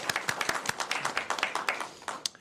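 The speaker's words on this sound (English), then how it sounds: "So round of applause for Sabrina for her work on this." Applause for an assistant at a district council meeting: a scattered round of hand clapping from a modest audience, uneven claps close and fairly quiet, lasting a couple of seconds.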